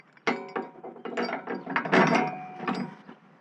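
A ratchet wrench clicks steadily as a bolt is backed out while installing front tie-downs and a rear hitch receiver, a close, busy run of rapid pawl clicks with no talking.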